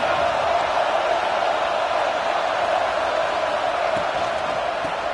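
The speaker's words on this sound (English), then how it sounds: "this crowd coming to life here, trying to help the defense get a stop" A college football crowd at a Michigan versus Texas game rises into a steady, dense roar to help the defense get a stop, a broad wash of noise holding level throughout without clear breaks.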